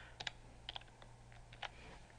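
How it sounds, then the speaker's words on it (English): Keys clatter on a computer keyboard while code is being typed, a few quick clustered taps close up over a steady low electrical hum, with no talking. "let me finish typing this"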